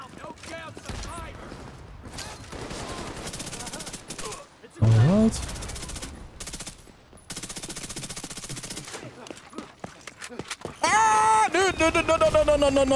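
Rapid SMG bursts in The Division 2, several sustained automatic volleys with short gaps, loud and close, layered with game music and effects and someone talking.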